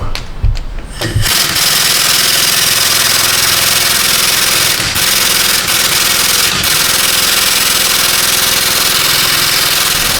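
A loud impact wrench runs steadily for several seconds on the front wheel bearing of a Nissan Altima, a harsh, continuous close-up rattle that follows a brief burst of clattering at the start.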